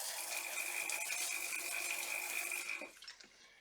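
Water streams steadily from a tap or hose to rinse car-cleaning items after handling brake dust from a Porsche's wheels, a close, loud hiss and splash that stops abruptly, followed by a few light rattles and drips.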